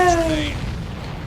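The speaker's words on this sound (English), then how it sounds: "Did you see that explosion?" A supply ship blowing up in the video game Ace Combat 7, a brief muffled boom fading into a low rumbling tail after a short tonal cue.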